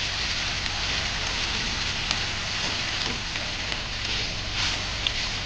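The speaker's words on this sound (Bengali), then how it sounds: "এবার আমি নেড়ে দেবো ভালো করে।" Okra curry sizzles in a pan as a thin layer of water is stirred in, giving a dense, even, rain-like hiss that stays close and constant throughout with no talk.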